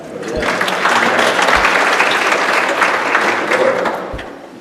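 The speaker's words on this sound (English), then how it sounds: "Let's give the Lord a hand clap." Church congregation giving a hand clap for the Lord, a full, lively round of applause with a few sharp individual claps standing out, tapering off at the end.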